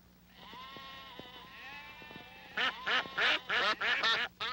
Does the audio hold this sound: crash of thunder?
no